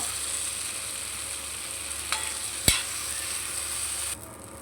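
Ingredients for mutton sambar frying in a pan, with tomato already added: a continuous soft sizzle, one sharp clack of a utensil near the middle and a lighter knock shortly before it.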